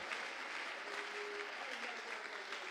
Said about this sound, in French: Acclamez-les encore très fort.